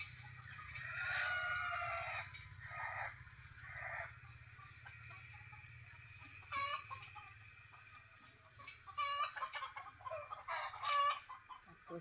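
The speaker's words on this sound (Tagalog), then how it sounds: "yan ang kaugalian ng mga manok dito sa probinsya. Nadapo sa ibabaw ng mga puno." At dusk in a rural province, chickens roosting in trees cluck and call in scattered, faint bursts over a low steady background hum.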